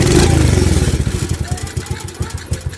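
An old motorcycle engine revs in sharp, throaty bursts, then settles into a rough, pulsing idle with a clattery rhythm, loud and close.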